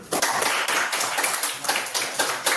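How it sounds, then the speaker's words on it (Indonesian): Audience clapping breaks out in an Indonesian classroom or group session, a dense run of mixed hand claps that swells and dips in bursts, fairly close and steady with no talk over it. "Tepuk tangan dulu."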